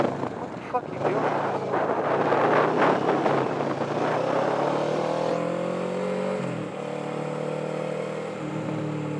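A motorcycle ridden through traffic beside an SUV, its engine droning steadily and close with heavy wind buffeting the microphone; the engine pitch shifts slightly partway through.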